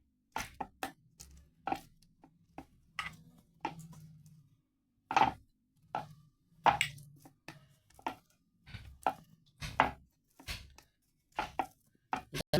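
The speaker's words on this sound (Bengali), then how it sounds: "এবার আমি তেল দিয়ে বেলে নেব।" Lachha paratha dough is rolled out with oil, producing a series of sharp, close knocks and taps of the rolling pin against the board in an irregular rhythm, with quiet rolling rumbles between them.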